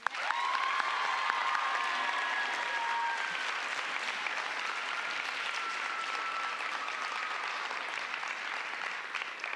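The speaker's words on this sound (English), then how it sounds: "give her a round of applause for Caitlin Harp." Audience applause at an awards ceremony: steady, dense clapping that holds evenly for nearly ten seconds, heard at a moderate distance and fairly soft, with no talking over it.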